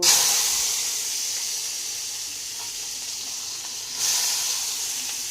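Vegetables tipped into a hot pan of boiled noodles, a sharp sizzle at the start that settles into a steady steamy hiss, then a second burst of sizzling near the end.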